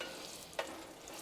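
Chopped garlic sizzles faintly in hot oil, a soft, even hiss broken by a single sharp tick, with no voices.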